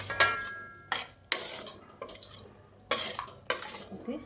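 Sorghum flour roasting slowly in a pan over a low flame, stirred with a spoon that scrapes and knocks against the metal in repeated, irregular strokes about every half second, close and clear with a faint dry sizzle underneath and no talking.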